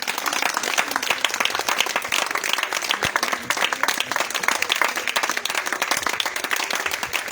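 A church prayer-meeting congregation claps and applauds to acclaim the Lord Jesus, producing a dense, steady roar of many hands clapping throughout, with faint voices mixed in.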